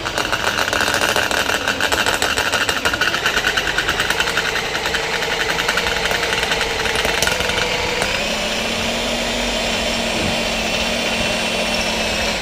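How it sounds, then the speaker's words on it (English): A drill bores out a rivet on a GM seat rail from an OBS Chevy truck, held at an angle with cutting oil. It is a loud, close, steady motor whine with chattering bit vibration, continuing throughout and easing slightly toward the end. "You notice I'm drilling on an angle kind of because I want to try and get more to the center since I was a little off"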